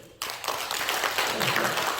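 Church congregation bursting into applause during a Sunday service, a sudden start followed by dense steady clapping from many hands, fairly close and sustained.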